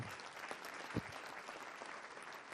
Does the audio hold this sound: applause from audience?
yes